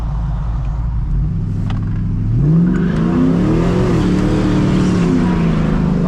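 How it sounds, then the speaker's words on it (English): A 450hp cammed truck accelerates hard from inside the cab, its loud, lumpy engine note rising in pitch as one rear wheel spins in a one-wheel peel, with steady mechanical drone throughout. "Oh man, that was just a one-wheel peel"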